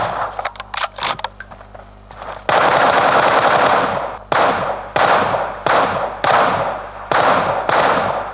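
Gunfire from the PUBG video game plays through Noise Airwave Max 4 earbuds as rapid automatic bursts and sharp single shots in quick irregular succession. The sound is loud and close, with no talk.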